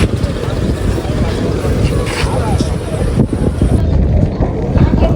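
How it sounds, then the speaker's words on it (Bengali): A hired motor trawler travels on the Meghna river, its engine a loud low rumble mixed with heavy wind buffeting the microphone across the whole stretch. "আমরা হচ্ছে এখন ট্রলার ভাড়া করে স্বপ্নদ্বীপের উদ্দেশ্যে রওনা হলাম"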